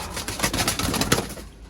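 Firozpuri and Sialkoti pigeons coo close by in short, busy bursts, with a fluttery, rustling texture over a brief stretch and no talking.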